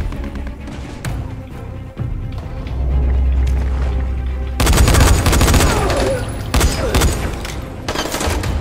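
Enemy gunfire in Dying Light, a series of loud, sharp gunshots and rapid bursts cracking close by, with a speaking voice faintly beneath.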